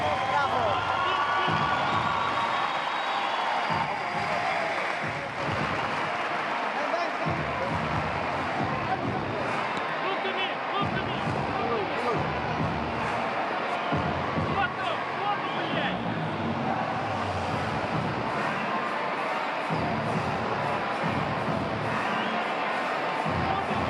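A home crowd roars and cheers at a boxing night in La Guaira, Venezuela, after a Venezuelan boxer wins a six-round decision; dense, sustained crowd noise fills the arena from start to finish.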